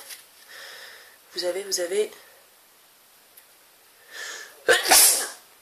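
A single sharp sneeze bursts out near the end, preceded by a quick intake of breath and a brief vocal sound earlier.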